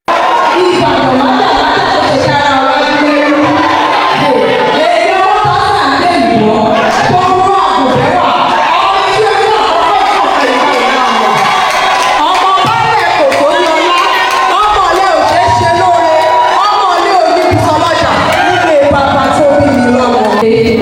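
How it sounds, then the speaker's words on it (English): A large crowd cheers and shouts loudly and continuously at the Miss Ibadan 2026 beauty pageant crowning ceremony, a dense, sustained roar of voices with whoops rising throughout. "the crowd, loud, supportive, emotional"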